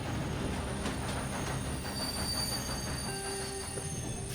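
A train in Red Dead Redemption 2 rolls steadily along the rails with a continuous low rumble, faint clicking and high metallic wheel squeal, heard alone without talk.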